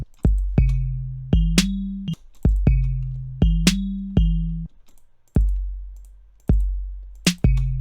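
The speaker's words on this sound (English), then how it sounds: "So, a kick on 1, and then on beat 3, having a snare." Programmed drum beat with a kick on beat one and a snare on beat three, booming low hits and sharp crisp strikes repeating in a steady looped pattern with silence between, no voices.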